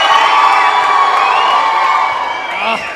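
A crowd at a live fight event cheers and screams loudly, a dense sustained roar of high shouting voices with whoops, steady for nearly three seconds and then tapering off.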